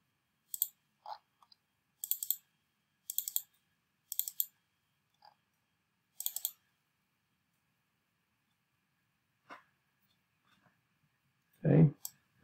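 A computer mouse clicks in clusters of quick taps, two to four at a time spread across several seconds, crisp and close in an otherwise quiet room.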